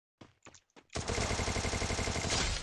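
Gunfire in the Free Fire battle royale game: a few short, sharp single shots, then a loud, rapid automatic burst that runs continuously to the end.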